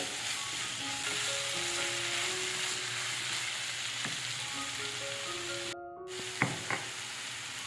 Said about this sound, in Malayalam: സവോളയൊക്കെ പെട്ടെന്ന് തന്നെ ഒരു വഴന്ന് കിട്ടും